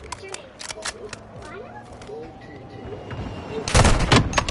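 Gunfire in Call of Duty Modern Warfare 2 crackles in scattered shots early on, then builds to a louder, denser volley of bursts at the end, with voices shouting over the battle.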